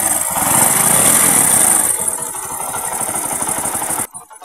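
Bajaj 126 motorcycle engine, under repair for an electrical fault, running steadily up close with a loud rough idle that chatters on for about four seconds before cutting off abruptly.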